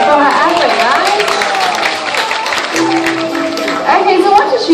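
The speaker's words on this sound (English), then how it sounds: "How about a big round of applause for her effort, guys?" An audience at an elephant show at Singapore Zoo claps and cheers in sustained, dense applause, with a voice talking over the crowd throughout.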